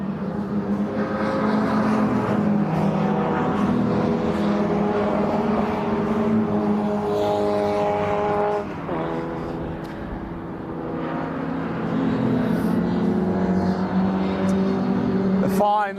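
MG Midget and Sprite race cars during qualifying at Brands Hatch, their engines droning and rising in pitch as they accelerate and pass, loud and continuous with a brief dip midway.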